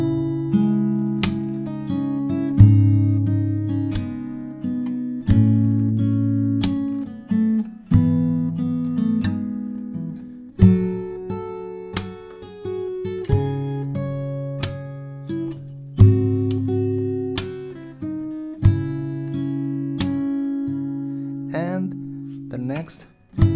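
Fingerstyle guitar plays the bridge of a song, adding percussive kicks on the bass notes of each chord; steady, close, unaccompanied picking with regular sharp thumps under the melody.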